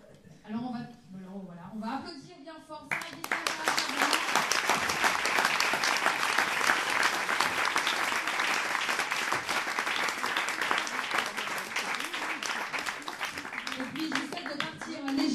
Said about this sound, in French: alors on va applaudir bien fort Sarah Gisler.